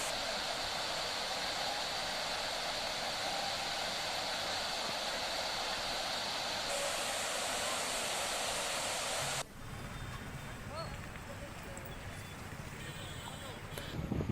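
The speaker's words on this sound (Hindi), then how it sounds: "जहां पर भारी बारिश के बाद लगातार जबरदस्त पानी झरना में बना हुआ है" Heavy water pours down a waterfall at the Jharneshwar Mahadev site in Manasa, Neemuch, after heavy rain, a loud, steady broadband roar that shifts abruptly partway through as another scene begins.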